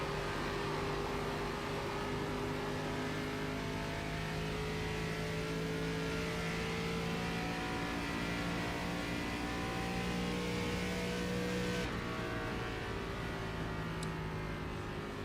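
A race car engine in the iRacing sim revs steadily and loudly throughout, its sustained, shifting engine tones holding on with no talk over them.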